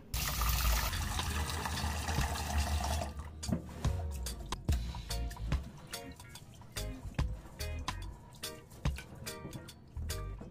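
Rice is washed in water in a pot before going into a rice cooker: a few seconds of steady pouring and sloshing, then scattered drips, splashes and swishes of grains being rinsed close by.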